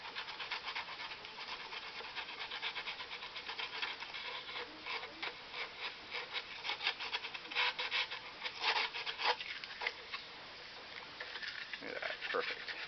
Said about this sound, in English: easy way to get your excess fiberglass off